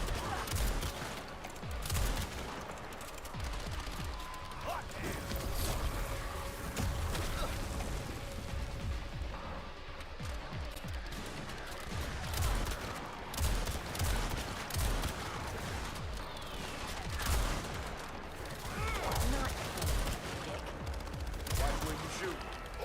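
In Toxic Commando, continuous automatic gunfire rattles through a busy battle, dense bursts of shots layered over explosions and game noise, with voices talking intermittently over the fighting.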